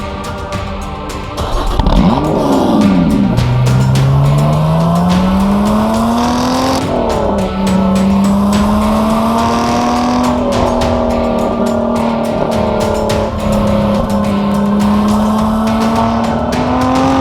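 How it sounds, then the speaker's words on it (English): Lotus Exige S with the supercharged V6 accelerating hard on the move, a loud, close engine note climbing through the gears with rising supercharger whine and a brief shift dip, continuous throughout. "To get my hands on a Lotus Exige S, so it's the V6 supercharged model."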